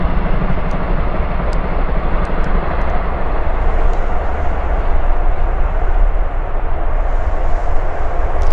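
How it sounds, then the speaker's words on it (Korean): A train passes by near a riverside park path, a steady loud low rumble and rolling roar holding throughout, with faint higher clatter on top and no talking. "기차가 지나가요."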